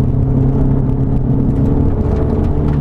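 A tuned Gen1 Mazdaspeed3 with a stock catback exhaust revving under boost, a loud, close, continuous low engine drone and whir held steady throughout.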